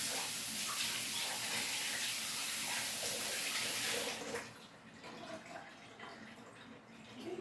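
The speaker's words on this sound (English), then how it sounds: "I'm gonna rinse that one too." Tap water runs steadily over a peeled hard-boiled egg, a loud broadband rush that drops to a softer trickle partway through.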